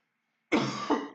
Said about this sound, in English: Hiccups and I'm coughing.